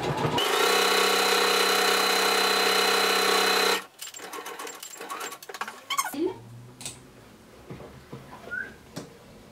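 A sewing machine stitches a seam on red kimono fabric, a loud steady whir for a few seconds that stops abruptly, followed by quieter clicks and handling noises.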